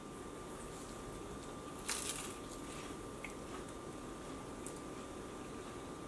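One crisp crunch comes from biting into a puff pastry tuna pie with flaky crust, heard close and short, followed by faint chewing over a hissy background.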